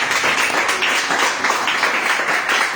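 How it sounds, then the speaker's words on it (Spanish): Church congregation clapping loudly and continuously together during a worship service, a dense unbroken wash of applause filling the room. "Vamos a darle un fuerte aplauso al Señor"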